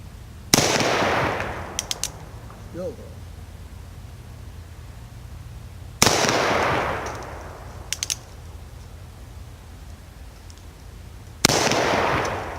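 Three loud, sharp .44 Magnum revolver shots from a $250 handgun, evenly spaced several seconds apart, each with a long rumbling outdoor decay and faint clicks between.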